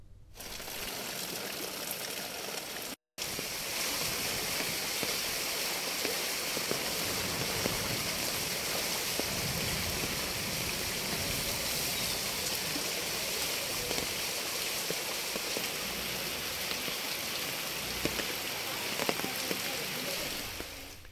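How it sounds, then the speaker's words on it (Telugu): Heavy rain pours at night in Hyderabad as roads flood, a dense, steady hiss and roar that runs unbroken apart from a brief dropout near the start. "అనేక ప్రాంతాల్లో భారీగా వర్షం కురిసింది దీంతో రోడ్లు జలమయమయ్యాయి"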